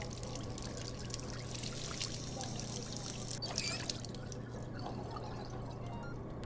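Water pours into a pot inside the Job Simulator VR game, a faint, steady trickling stream running for several seconds with no voices over it.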